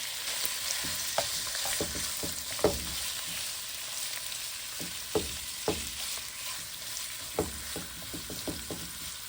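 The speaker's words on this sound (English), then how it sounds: "Now I'm gonna add our shrimp." Shrimp sizzles in a pan of frying rice, with a steady hiss broken by scattered scrapes and taps of stirring, close and moderately loud, no voices.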